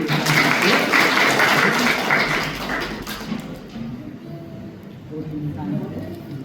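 Wedding guests break into a burst of clapping that rolls loud at first and then thins and fades, with voices talking through and after it in the room.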